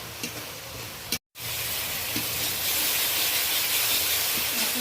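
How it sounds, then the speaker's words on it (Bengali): Ground spice masala of chilli, turmeric, cumin and coriander powder frying in a pan for koi fish curry, a steady broadband sizzle and hiss that continues throughout, briefly cut by a moment of silence near the start. "মশলাটা ভালোভাবে কষানো হয়ে গেছে"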